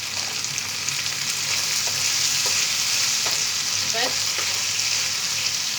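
Paneer is stirred in a sizzling frying pan for a chilli paneer dish, a steady broadband fry hiss with soft scraping strokes throughout and a single brief spoken word.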